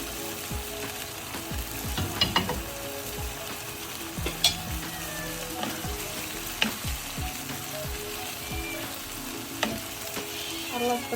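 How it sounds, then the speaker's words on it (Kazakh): Fettuccine with fried chicken pieces being stirred in a creamy sauce in a pan, giving a steady soft sizzle with scraping and clinking of the spoon against the pan throughout. "Араластырамыз."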